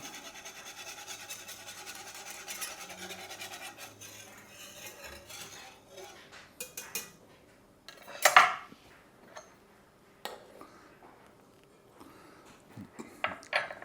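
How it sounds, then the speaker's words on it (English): A whisk clatters and scrapes against a metal pan while turkey gravy is stirred, a steady rattling mix broken by one louder clank near the middle and scattered taps afterward. "We're just going to whisk it in, keep it mixing so we get it nice and stir it in evenly."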